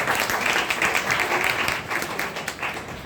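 Loud, sustained applause from an audience at an award celebration for pin achievers, a dense steady wash of clapping that holds throughout.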